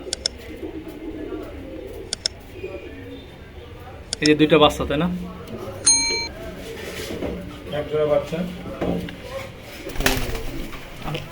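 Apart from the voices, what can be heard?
pigeons cooing in a pigeon farm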